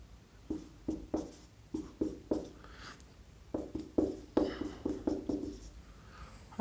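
Pen or marker writing out polynomial division on a board or paper, a run of close, rhythmic scratching strokes and taps in quick bursts, with a short pause midway and no talk.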